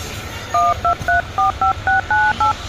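A rapid series of touch-tone beeps, about nine short dialing tones in quick rhythm, clear and close with a low hum beneath.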